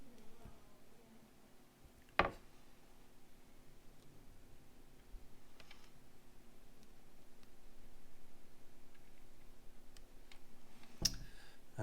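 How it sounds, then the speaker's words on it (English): Two faint, sharp clicks as an LED eye piece of a Terminator model snaps into its socket, spaced about nine seconds apart over quiet room noise and light handling. "You should hear like a clicking sound."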